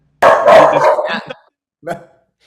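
A dog barks indoors in a short burst of several loud, rapid barks, then falls silent before one more brief bark follows.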